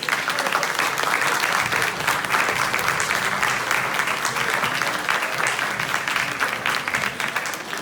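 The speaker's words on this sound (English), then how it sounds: "Join me in one final round of applause for all of these candidates." Sustained, loud applause from a large audience for a group of candidates, steady clapping filling the whole stretch without letup.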